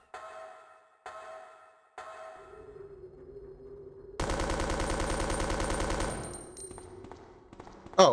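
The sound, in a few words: full-auto machine gun shooting roaches in Resident Evil 2 video game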